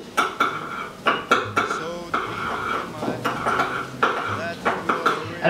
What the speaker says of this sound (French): Alors on mélange avec une cuillère, un pinceau, une fourchette, ce que vous voulez, hein.